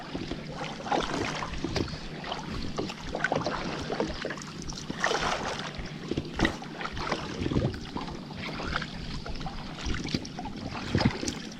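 A cheap fishing kayak rides on water, with steady, soft sloshing and splashing from the paddle and hull plus faint wind, heard close by without talking.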